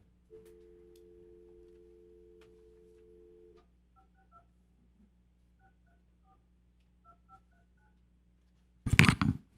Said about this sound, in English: Assistant City Manager Andrew Villalpando will call up the individual.